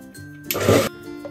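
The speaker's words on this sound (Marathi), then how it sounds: "आता हे ना झाकण लावूया आणि मिक्सर मधून पुन्हा हे ग्राइंड करून घेऊयात" A kitchen mixer grinder runs in one short, loud whirring burst of under half a second, grinding gram flour batter mixed with a cup of water.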